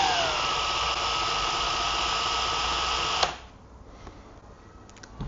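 A cordless Ryobi R18PF 18V power file runs with a steady high-pitched motor whine that dips slightly in pitch as it slows, then cuts off abruptly about two-thirds through, leaving near-silence with a few faint clicks.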